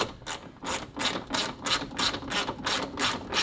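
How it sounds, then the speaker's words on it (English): A hand ratchet turns factory bolts into an electric fan conversion on a 2004 Cadillac Escalade with the 6.0 engine, giving about a dozen quick, evenly spaced metallic clicks up close. "Let's get these bolts installed here."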